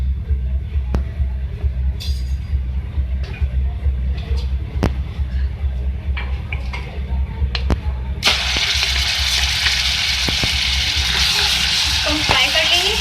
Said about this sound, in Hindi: अब ऑयल में मैं डालूंगी अदरक लहसुन का पेस्ट